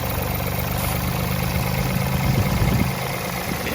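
A car engine idles roughly during a search for an intake air leak, a steady low drone with an uneven, lumpy pulse, close and continuous with no voices.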